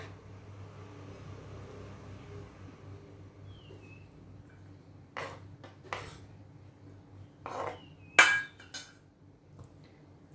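Jackfruit being cut with a knife for a traditional jackfruit curry: a handful of sharp, separate chopping knocks against a board, close by, with quiet gaps between them over a low background hum.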